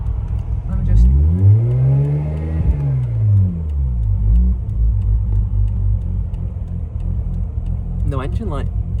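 Bridgeported Mazda RX8 rotary engine with a misfire problem revs up and down in a couple of deep, sweeping swells, then settles into a lumpy idle, close and loud, with a short burst of voice near the end.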